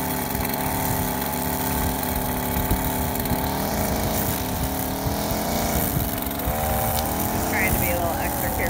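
A Stihl FS56RC string trimmer runs steadily nearby, a continuous buzzing engine drone that rises slightly as the throttle is worked along house siding close to the ground; someone talks over it.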